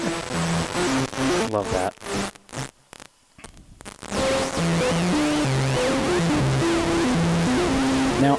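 Regular output of a Schlappi Engineering Interstellar Radio synth module: a stepping, warbling tonal sequence over static, cut by a brief near-silent gap before resuming with sweeping tones; a person briefly speaks.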